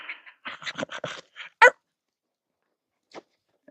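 A puppy whimpers and yips in a quick run of short, close cries, then a sharper bark, a pause, and a few fainter whimpers.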